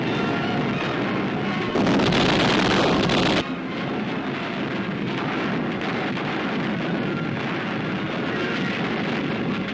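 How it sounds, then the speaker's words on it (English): Dense, continuous roar of heavy World War II gunfire with a louder rushing burst early on from a salvo of Soviet Katyusha rockets, rumbling on without pause. "To the symphony of gunfire is added the eerie note of Katyushka, the Soviet rocket guns"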